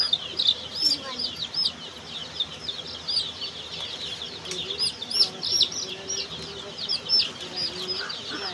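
Week-old native desi chicks on a poultry farm, a dense chorus of high, thin peeping chirps repeating continuously and close, with faint lower clucks and a voice now and then beneath.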